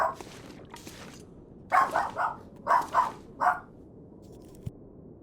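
Several dogs bark in a quick burst of about six sharp woofs in two clusters, fairly close, after a quiet stretch with faint background noise; one brief tap follows near the end.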